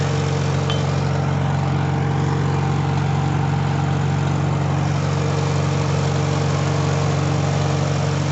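IH 120 mower engine running steadily, a loud, close, even idle-like drone with a constant low hum and no pauses.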